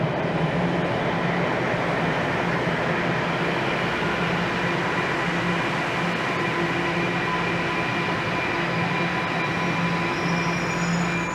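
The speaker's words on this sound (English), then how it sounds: "Let this train roll in." A Toronto subway train rolls into a station, a loud steady rumble of wheels and motors with faint high squeals over the rail noise, continuous and close throughout.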